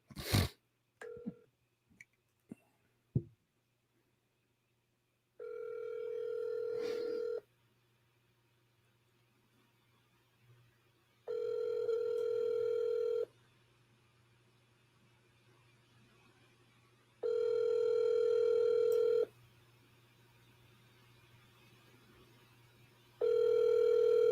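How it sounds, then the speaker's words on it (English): A phone rings out while a business call is placed, a steady tone that repeats in long bursts separated by silent gaps, preceded by a few brief clicks and button taps, with no talk over it. "let me try to call this guy Johnny."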